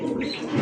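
Maltese pigeons give a short, low, throaty coo close by, a soft rounded burst that swells briefly near its end.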